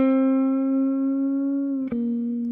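A jazz guitar holds one long sustained note that rings steadily and clearly, then is briefly re-struck near the end.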